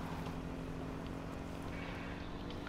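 Motorcycle engine in the H1Z1 game, a steady droning hum with a low rumble, constant in level and somewhat distant, with no voices over it.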